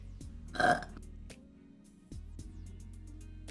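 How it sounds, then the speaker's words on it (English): A man lounging on a couch lets out a single loud, deep burp right after chugging a beer; it swells up quickly and fades within a fraction of a second over a low background hum, with no talking. "His burp seems to shake the couch."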